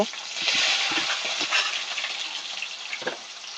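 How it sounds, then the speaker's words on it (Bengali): Prawns fry in hot oil in a wok, giving a loud, steady broadband sizzle with a few clattering stirs along the way and no voices. "এর মধ্যে চিংড়ি মাছগুলো আমরা হালকা ভেজে নেব"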